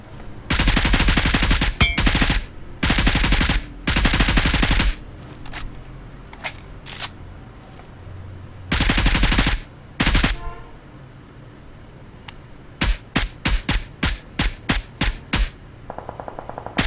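Automatic machine-gun fire in a squad-mode shooter video game: several long, loud, close bursts in the first half, then a run of quick separate shots near the end, with quieter gaps between.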